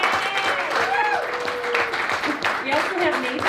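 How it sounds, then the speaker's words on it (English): Studio audience applauds for stage characters at a geek-culture talk show, a dense steady wash of clapping lasting several seconds, with voices calling and talking over it. "give a round of applause"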